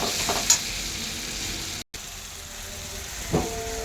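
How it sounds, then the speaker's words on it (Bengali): Spices sizzle and fry in a pan with onions, a steady soft hiss throughout with a couple of brief stirring scrapes, heard close and fairly quiet. "এখন আমি মশলাটা ভেজে নেবো"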